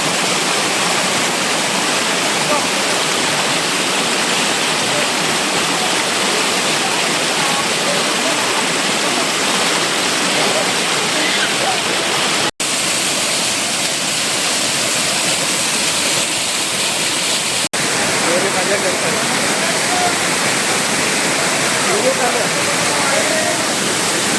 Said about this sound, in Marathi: सुंदर हा धबधबा निवेंडी गावात